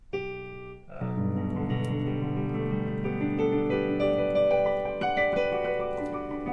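A piano plays a rising arpeggio with the sustain pedal held down, so the notes pile up and blur into a thick, muddy ringing wash.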